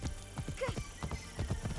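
Horse hooves clip-clopping as a rider travels on horseback in the Assassin's Creed Shadows video game, a steady rhythmic gait with a brief whinny partway through, moderately loud over faint game ambience.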